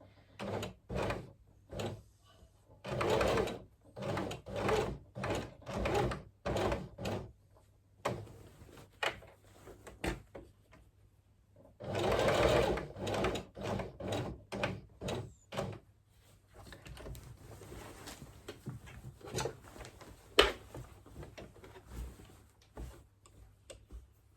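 Heavy duty sewing machine stitching a quilt, with repeated bursts of fast mechanical clatter separated by short pauses, fairly close and steady, with faint handling noises between runs.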